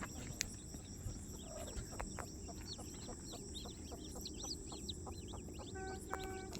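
Newly hatched chicks and hens chirp and cluck faintly in a rural setting with thorny brush, giving scattered short peeps over a steady background hum of insects.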